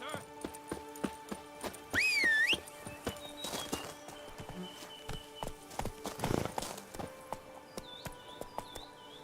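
Horse riding in The Witcher 3 brings steady clip-clop hoofbeats close up, a loud neigh partway through, and clattering movement amid game ambience and music with chirping tones.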